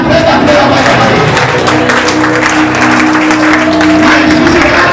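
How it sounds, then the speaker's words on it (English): A church congregation claps continuously and loudly during prayer, a dense wash of applause with voices beneath. "Clap your hand and press that prayer over your body."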